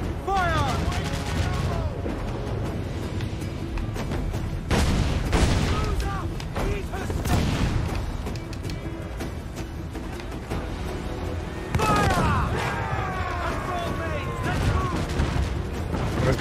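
Cannon broadside from a sailing warship in Assassin's Creed IV Black Flag, with repeated loud booms and bursts layered over game music and effects, while someone talks over the battle.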